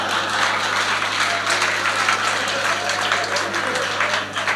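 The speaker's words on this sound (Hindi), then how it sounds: "देखो, ताली बजाओ ढंग से," Sustained applause from a comedy show audience at a Haryanvi stand-up performance, dense steady clapping that fills the whole stretch without pause, fairly loud with a low hum underneath.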